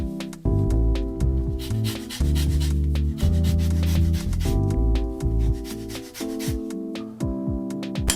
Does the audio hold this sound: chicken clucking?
no